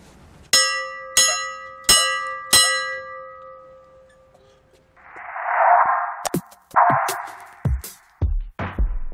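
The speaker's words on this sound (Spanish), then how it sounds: "hoy es la campana de la suerte del museo" A museum bell rings four clear, evenly spaced strikes whose tones hang and fade, followed by a stretch of rough noisy bursts and knocks.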